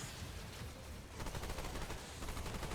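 Dense, rapid gunfire fills the Remnant 2 video game in a continuous burst of loud, overlapping shots, with the firing rhythm shifting partway through.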